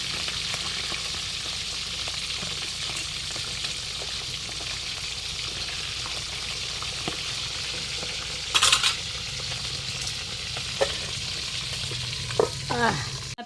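Marinated pork ribs fry in a pan with a steady, continuous sizzle, and sharp spattering pops burst out near the end.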